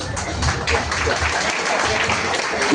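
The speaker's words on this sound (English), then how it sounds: "Please give him a round of applause." An audience at a school gathering claps for a student, a short burst of fairly loud, close clapping mixed with background chatter and a voice.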